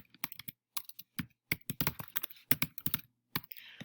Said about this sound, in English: You're going to type in your student's name